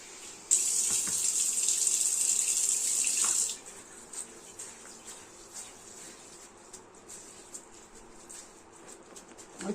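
Water runs from a tap while soaked gobindobhog rice is washed for pulao. A steady hissing stream sounds for about three seconds, then stops, leaving faint clinks and splashes of handling.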